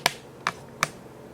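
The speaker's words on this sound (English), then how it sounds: "Sorry for the noise on the tripod." Three sharp little clicks and knocks come from a camera tripod being handled, evenly spaced over about a second, close and fairly quiet, with no voices.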